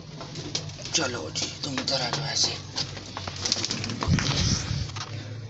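Pet pigeons, some of them sick, cooing softly in a nesting coop where eggs are being laid; low, repeated coos continue under someone talking nearby.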